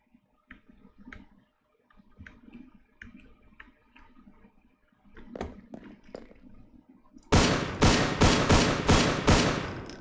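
Gunfire in a first-person video game: scattered faint clicks and a few small pops, then a loud burst of rapid automatic shots hammering close up for the last few seconds, with no talk.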